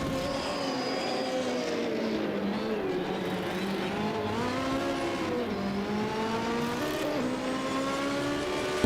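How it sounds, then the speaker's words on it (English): Opel Ascona 400 rally car climbing a hill course in the European Hill Climb Championship at St. Ursanne Les Rangiers, its engine revving up and down through gear changes, heard from a distance, steady and fairly faint, with no voices. "Opel Ascona 400, goodness me"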